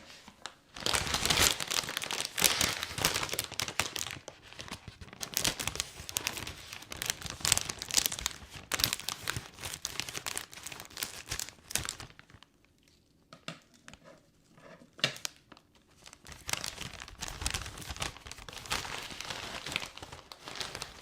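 Close, continuous crinkling and crackling of a plastic potato chip bag from Prince Edward Island being handled and cut open with scissors, with a brief quieter pause before more rustling.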